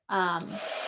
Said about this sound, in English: I try to speed it up using my heat gun just a little bit